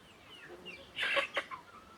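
Farm chickens near a building give a short, faint burst of clucking, a couple of quick squawky notes in the middle of an otherwise quiet moment.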